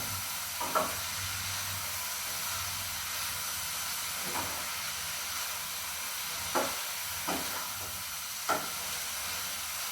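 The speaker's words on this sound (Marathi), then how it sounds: "मंद आचेवरच ही भाजी आपण शिजून घेऊया" Shredded cabbage bhaji cooking in a pan over a low flame gives a steady soft sizzle and hiss, broken by several brief scraping stirs of the spoon spread across the stretch.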